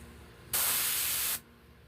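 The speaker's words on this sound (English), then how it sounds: "So we start out spraying in my base coat of umber." A spray gun lays an umber base coat onto a Part 7 Jason mask, one steady close burst of bright airy hiss lasting under a second, starting and cutting off abruptly against a quiet room.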